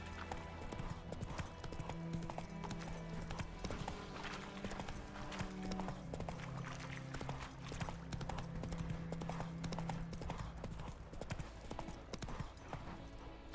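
Horse hooves clip-clop in The Witcher 3 video game, a steady trotting rhythm of repeated hoof beats over a low game soundtrack, close and continuous throughout.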